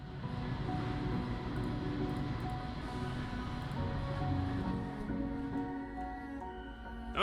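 Trains roll along in the Plan B Terraform video game with a steady mechanical rumble and rattling clatter, overlaid with faint tonal hums, continuous and moderately loud with no talking.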